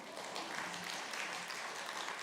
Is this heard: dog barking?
no